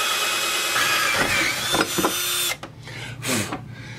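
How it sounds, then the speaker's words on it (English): A small drill bit bores into a thick steel bracket during an RV office monitor-mounting job, giving a steady, close whining grind for about two and a half seconds, then stopping and briefly restarting in short bursts. "I'm going to start off with a small drill bit and then we will graduate up to a larger one."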